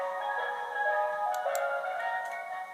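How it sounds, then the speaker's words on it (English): A tinkling ice cream van melody plays from a model railway sound system, bright electronic chime notes over a faint background, moderately quiet. "Ice cream van."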